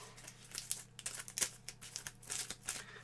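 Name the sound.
shuffling a deck of board game cards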